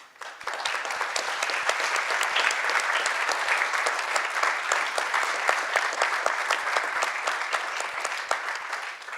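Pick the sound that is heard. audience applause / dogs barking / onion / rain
audience applause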